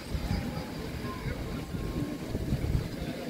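Steady outdoor wind buffets the microphone in a continuous low rumble, loud and close, lasting throughout.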